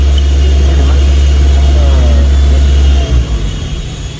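A Toyota Avanza EFI engine runs loud and close as its idle rises, a steady low drone that lurches and roughens toward the end.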